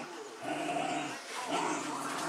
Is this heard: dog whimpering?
yes